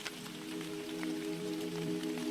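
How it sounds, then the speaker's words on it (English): Rain drips from leaf to leaf among thick cedar roots, a soft, steady patter of scattered drops over a quiet background, with no voices. "The only sound was the dripping of rain falling from leaf to leaf"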